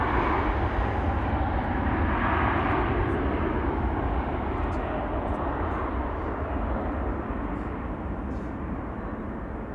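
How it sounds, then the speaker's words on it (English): A KLM Embraer 190 airliner departs Schiphol for Luxembourg, its jet engines a loud, broad continuous roar that fades slightly toward the end. "KLM flight 1709 to Luxembourg, an Embraer 190."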